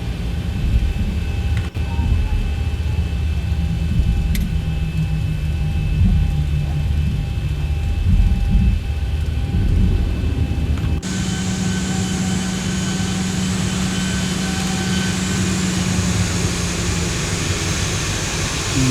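A Boeing 737 in the X-Plane flight simulator taxiing fast, its steady jet engine whine and low rumble continuous throughout and swelling louder partway through.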